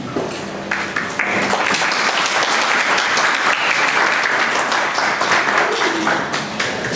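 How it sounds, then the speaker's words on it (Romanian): A crowd applauds steadily for about seven seconds at a Myosotis association's 20th anniversary gathering, with dense, close clapping that holds even and loud throughout. "ca să poate aplaudă cineva."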